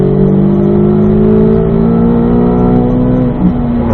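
A car engine pulls steadily up a hill on a driving track, its tone holding as a loud, continuous drone with a slight rise in pitch, close to the microphone throughout, with no talk.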